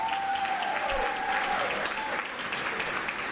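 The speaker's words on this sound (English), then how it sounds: "Can I request you to give a warm round of applause?" Warm, sustained applause from a conference hall audience at a women's dialogue event greeting a justice minister, a dense steady wash of clapping with faint vocal cries or ululation mixed in.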